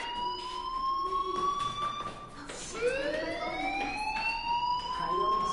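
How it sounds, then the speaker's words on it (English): Steady electronic fire alarm in the video game Life is Strange, a loud continuous high tone with harmonics that dips briefly around the middle and then returns, sounding on its own with no talk. "Hey, do you hear that fire alarm?"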